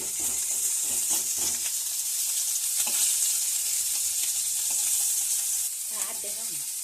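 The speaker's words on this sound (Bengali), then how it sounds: "এইভাবে সব মাছগুলো এক একে ভেজে নিচ্ছি আমি।" Fish fries in oil in a kadai for a Bengali phultoosi fish curry, producing a loud, steady, hissing sizzle broken by the light clatter of pieces being turned, with the sizzle easing slightly near the end.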